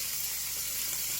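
Steak frying in butter in a hot pan, a steady close, dense sizzle with no pauses and no talking.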